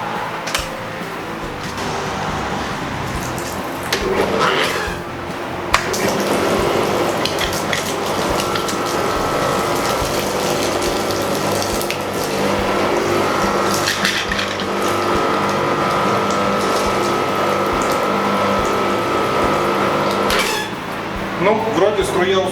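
A Karcher K 5 Full Control pressure washer is switched on and runs without its nozzle, giving a loud continuous mechanical pump hum with water rushing over most of the clip.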